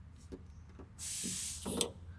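Air hisses out while the brake master cylinder on a 1966 Corvair is bled, a steady spraying hiss lasting under a second that ends in a brief sputter, following a few faint clicks.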